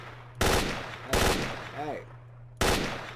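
Gunshots in the video game S.T.A.L.K.E.R. Shadow of Chernobyl: three loud, sharp blasts spaced apart, each with a short decaying tail, while a steady low hum runs underneath and someone briefly speaks between shots.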